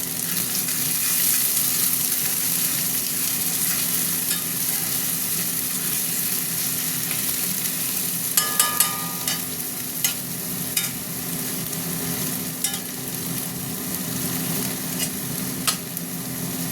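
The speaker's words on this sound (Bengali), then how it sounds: "পেঁয়াজটা একটু ভাজা ভাজা হবে" Onions fry in hot oil with a steady, close sizzle, broken now and then by a few light clicks of a spoon against the pan.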